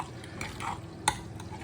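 A fork stirs mashed potato with cream and cheese in a bowl, giving soft, wet scraping strokes. A sharp clink of the fork against the dish cuts through near the middle, and the rest stays quiet and close.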